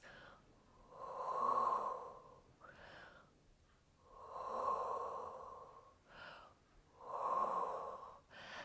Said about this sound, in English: And take some deep breaths.